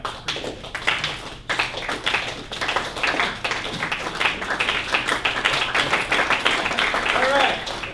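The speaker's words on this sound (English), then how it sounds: "Can I get somebody to help with the slow clap?" An audience at a conference claps, starting with sparse separate claps that grow into denser clapping, heard under a speaker's voice.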